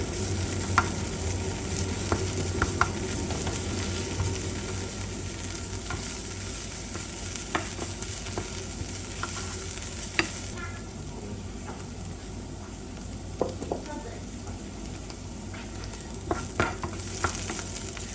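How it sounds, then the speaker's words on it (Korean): Onions frying in a pan and stirred until caramelized, with a continuous close sizzle and frequent scraping, clicking strokes of the spatula against the pan throughout. "캐러멜 색깔이 좀 나와야 됩니다. 그래야 숨도 죽고 양파 매운 것도 날라가고 훨씬 맛있는 양파가 됩니다."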